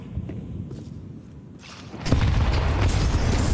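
Stacked grenades going off in a competitive esports shooter match, a deep boom rising into a sustained rumbling roar after quieter shuffling and faint footsteps.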